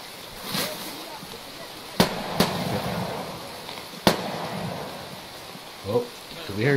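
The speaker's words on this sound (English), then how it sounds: "Shots over there?" Gunshots in Escape from Tarkov ring out as three sharp, distant cracks over a noisy background, with a voice speaking briefly near the end.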